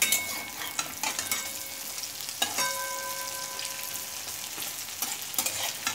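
Cabbage pakoras sizzling steadily in hot oil in a pan over medium heat, with occasional clinks and scrapes of a spatula as they are flipped one by one; close and continuous, no voices.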